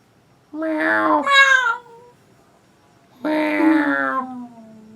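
A voice backstage at a theatre imitates a cat, giving two drawn-out, whiny meows close up with a short silence between them.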